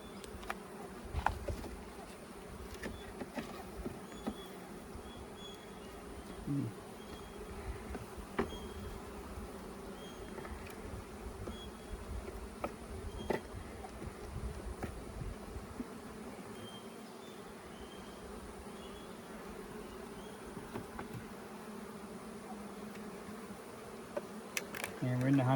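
Honey bees hum around an open beehive during frame inspection, a faint, steady, continuous drone with occasional closer buzzes and light handling clicks throughout.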